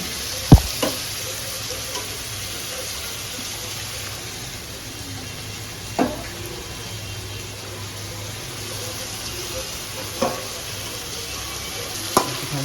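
Chicken chaap fries in a pan, giving a steady soft sizzle that runs throughout, with a few sharp clicks and taps now and then.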